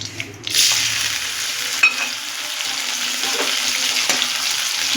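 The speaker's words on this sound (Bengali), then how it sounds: "ওই তেলেই আমি দিয়ে দেবো টমেটো কুচি" Chopped tomato drops into hot oil for a Bengali dhela fish curry and bursts into a loud, continuous close-up sizzle after a brief quiet start.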